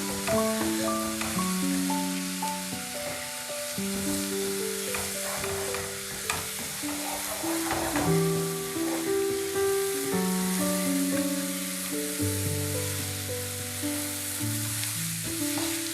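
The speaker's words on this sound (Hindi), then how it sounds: "ये देखिए, बस जैसे ही ये भुनेगा" Beef shank and trotters for Lahori bong paye frying in oil, a steady close sizzle over about sixteen seconds under a bed of background music, with occasional stirring scrapes and no talking.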